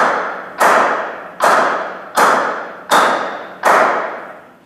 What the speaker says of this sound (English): my little friend Timmy here, Timmy Mallet, just to give you an idea on the sound, really, of the bat.